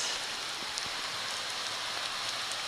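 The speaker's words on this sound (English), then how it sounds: "This heavy rain, and we are out here loving it." Heavy rain falls outdoors during a run, a steady, even wash of hiss with faint scattered drop impacts throughout, no voices.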